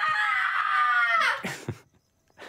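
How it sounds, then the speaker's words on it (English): An elongated, high, wavering scream from the horror film Ouija: Origin of Evil, loud and sustained for over a second before it bends downward and breaks off, followed by a few thumps and brief rustling. "That scream, that elongated scream, had made us laugh so much."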